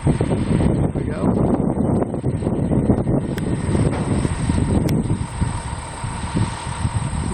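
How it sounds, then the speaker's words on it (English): Wind buffeting a microphone outdoors while a monopole radio tower is being erected, a continuous heavy low rumble that roars steadily throughout with a faint high-pitched tone above it. "We got a little wind going on here"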